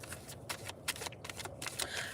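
Light Seers tarot cards being shuffled, a steady run of crisp riffling and sliding card strokes close up with no talking.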